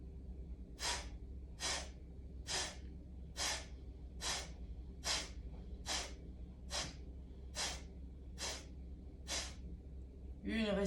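Ten rapid, forceful breaths in a guided breathing exercise, each short sharp burst evenly spaced about a second apart, close and clear over a low steady hum.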